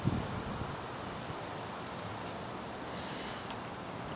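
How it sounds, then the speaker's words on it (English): Steady wind rumbling and buffeting against a microphone outdoors, a constant broad rush with a brief gust at the start. "it's a little bit windy out here"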